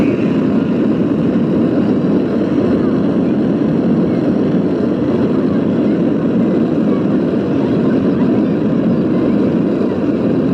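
A miniature rocket launch display at Legoland Windsor's Miniland plays a simulated main engine start, a loud continuous roaring rumble that holds steady from start to finish.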